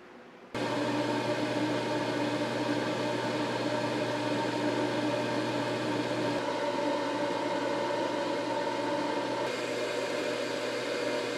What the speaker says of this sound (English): Just the sound of air rushing through there.